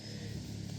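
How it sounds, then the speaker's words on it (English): A car approaching along a road on a rainy day, its engine a steady low rumble with a faint rising note, fairly close and continuous through the short moment, with no voices. "There's a car coming."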